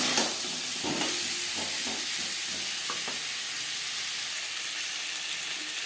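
Potatoes frying in oil for a fish curry give off a steady, close hiss and sizzle, with a few soft stirring knocks early on and no talk.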